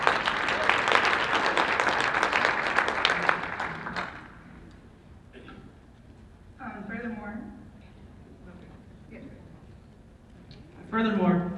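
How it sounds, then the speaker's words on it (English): Audience applause at the National Congress of American Indians, a dense burst of clapping for about four seconds that stops, followed by scattered speech-like sounds and murmuring. "A round of applause."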